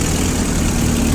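Yanmar KE-3 compact tractor engine idling close up, a steady, loud, low diesel chug with no other sounds.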